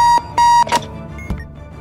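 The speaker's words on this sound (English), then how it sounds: "Push B and turn off the alarm clock." An alarm clock on a bomb module in Keep Talking and Nobody Explodes rings loudly in two or three sharp repeated electronic beeps, then stops abruptly with a click, leaving quiet background and no talk.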